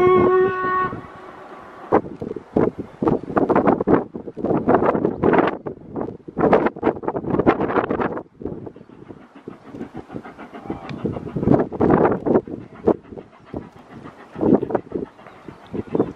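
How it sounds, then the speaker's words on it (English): A steam train rumbles past nearby with rushing wind and rhythmic chuffing surges that swell and fade, no voices. "Oh my god, the train is coming, guys."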